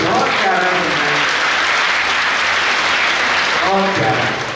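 Sustained applause from a poetry-gathering audience in Bhopal, loud and dense throughout, with a voice briefly heard near the start and again toward the end.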